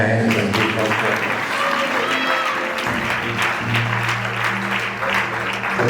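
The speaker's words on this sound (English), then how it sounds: "Clap your hands and give God praise." A wedding congregation claps along in continuous dense rhythmic applause, joined by singing and music at a steady loud level.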